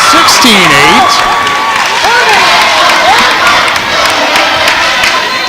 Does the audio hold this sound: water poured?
no